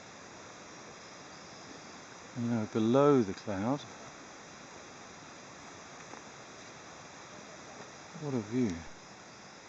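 A stream of water rushes steadily beside an overgrown logging trail, a constant broadband wash that runs the whole time while a person talks briefly over it twice.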